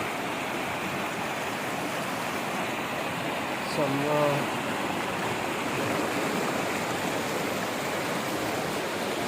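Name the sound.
floodwater flowing through streets after heavy rain in Oman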